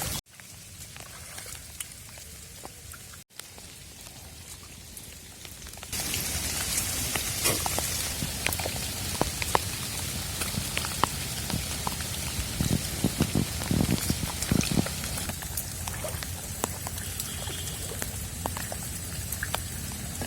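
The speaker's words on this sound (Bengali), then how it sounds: "প্রচণ্ড বৃষ্টির মাঝে" Heavy rain pours down on Monpura island in Bhola, Bangladesh, a dense, steady hiss close by that swells louder partway through and keeps drumming without pause; no voices are heard.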